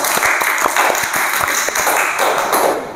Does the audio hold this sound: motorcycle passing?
no